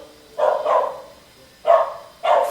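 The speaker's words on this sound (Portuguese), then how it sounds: "o cachorro está latindo" A dog barks three times, with a gruff double bark followed after a pause by two single barks, loud and close over a quiet background.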